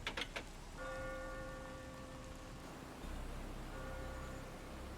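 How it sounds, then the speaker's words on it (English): A faint clock ticks against steady rain in the Rain Code game, the soft ticking and hiss of rainfall running together with low sustained tones, quiet and without voices. "The faint sound of a ticking clock melts against the sound of rain."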